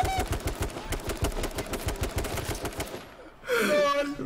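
Rapid automatic gunfire from the battle-royale game H1Z1, a dense run of loud bursts for about three seconds before it cuts off and a voice cries out.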